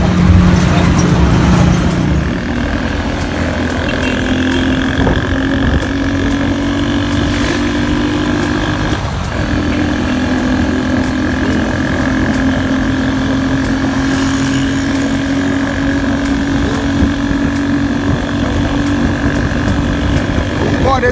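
A motorcycle taxi engine hums steadily throughout a ride toward Kwabenya in Ghana, a constant close drone with road and wind noise, while people talk over it.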